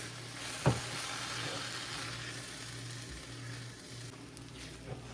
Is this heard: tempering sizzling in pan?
yes